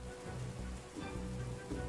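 Rain falls steadily in Wandering Sword, a soft, continuous hiss with faint low rumbling tones beneath it, fairly quiet and alone.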